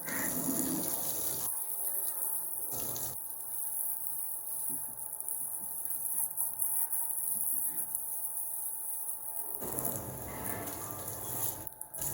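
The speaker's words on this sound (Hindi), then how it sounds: "तो पानी के साथ अब सरफ़ तकरीबन सारा धो दिया है।" Water gushing from a hose or tap to rinse detergent off a motorcycle during a home wash, a loud steady spray with brief pauses, close by, with some faint talk.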